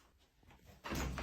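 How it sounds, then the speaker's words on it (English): Door handle rattled and a door yanked hard, a sudden loud thud and rattle after a near-silent, tense pause, close by indoors. "someone seems to turn the doorknob and yank the door"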